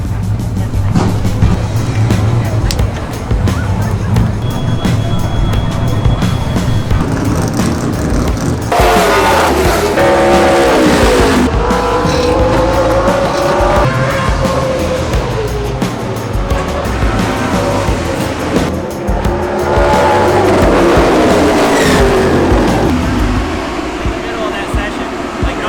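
A super late model race car engine drones close by, then rises and falls through several loud revving sweeps as the car accelerates and slows, with rough tire and road noise mixed in.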